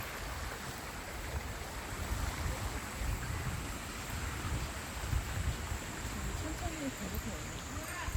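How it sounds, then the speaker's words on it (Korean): Water rushes down a sloped channel in a park in a steady, even wash without pause, a constant flowing noise with faint voices blended into the background. "이게 일부러 물소리 나게 하려고 이렇게 경사도를 만들어 놨구나."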